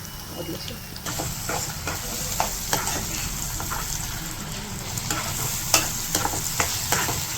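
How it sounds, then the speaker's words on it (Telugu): Tomato puree fries in hot oil for a red beans curry, a close, steady sizzle broken by soft scraping stirs and a few sharper spatters, with no talking. "ఈ టమాటా కూడా ఈ ఆయిల్లోనే బాగా వేగాలి"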